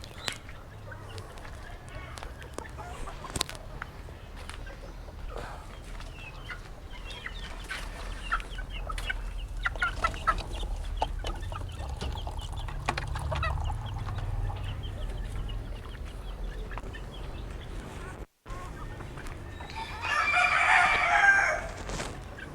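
Young chickens kept on a farm cluck and crow steadily after finishing their feed, a busy mix of fowl calls over low rustling, growing louder and brighter near the end with no talk.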